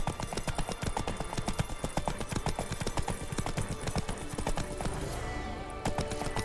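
Geralt's horse Roach trots in The Witcher 3, with steady rhythmic clip-clop hoofbeats close by throughout, loud and even, a faint whinny-like tone near the end.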